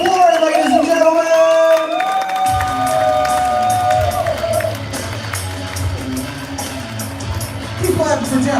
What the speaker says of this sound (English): keep clapping right now. Let's get really loud for him.